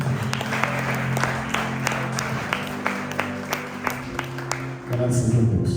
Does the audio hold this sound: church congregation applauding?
yes